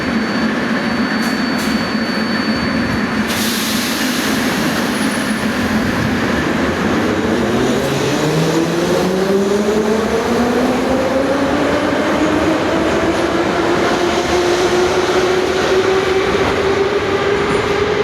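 A retro metro train pulls out of Lubyanka station on the Moscow underground, its motor whine rising steadily in pitch as it gathers speed, with loud rumbling wheels and car noise filling the platform throughout.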